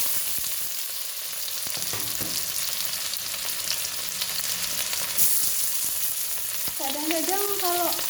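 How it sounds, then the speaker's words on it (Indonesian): Spice paste frying in added oil in a home kitchen, a steady bright sizzle with occasional stirring scrapes, close and continuous, and a brief voice near the end. "Dan ini aku tambahkan minyak lagi untuk goreng bumbu tadi."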